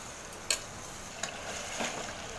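A spoon scrapes and stirs pepper mutton curry masala in a pan, giving a few soft clicks and scrapes over a faint sizzle.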